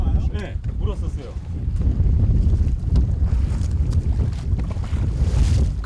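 Rough sea and gusting wind buffet a small fishing boat off Venezuela, with heavy wind roar on the microphone and surging water close by, while voices speak briefly at the start.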